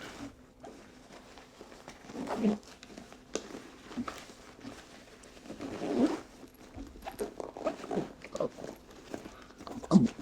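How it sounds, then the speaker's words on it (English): Quiet intermittent zipping and fabric rustling close by on a Brevitē Jumper backpack, short scratchy pulls separated by pauses and handling noise. "I'm zipping this from the opposite end"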